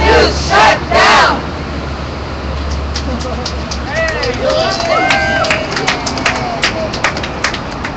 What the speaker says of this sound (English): A small crowd out here.